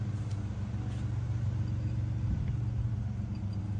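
A 65-year-old Victa lawn mower engine at wide open throttle runs with a steady, close, low rumbling drone that holds an even level for the whole stretch.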